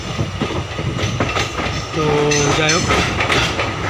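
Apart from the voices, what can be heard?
train entering a tunnel through a hill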